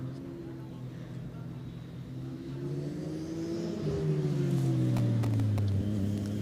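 A Formula Student race car drives an endurance session on a track, its engine droning with shifting pitch that swells louder partway through and carries on steadily, with a commentator talking over it.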